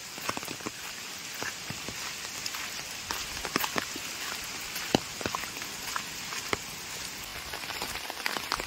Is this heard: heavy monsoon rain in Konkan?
yes